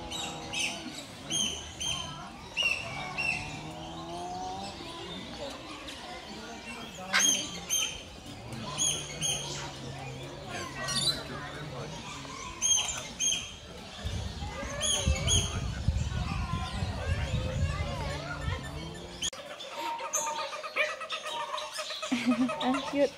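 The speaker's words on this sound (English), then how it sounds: "Maingay na yung birds" A noisy mix of squawks, chirps and calls from many birds in an aviary, repeated bursts near and far, with people talking over them at times.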